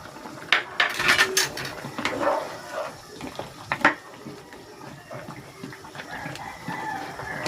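String beans and okra are dropped into a pot of sinigang with roast chicken, making soft thuds and clattering metal knocks of utensils against the pot. Chickens cluck faintly in the background.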